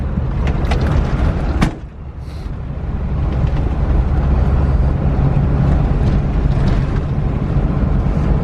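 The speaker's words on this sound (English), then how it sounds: "as you can hear, there's plenty of rattles and noises" A Suzuki Samurai driving with a steady loud engine and road roar throughout, a sharp knock or bump near the start and continuous rattling and clattering noises underneath.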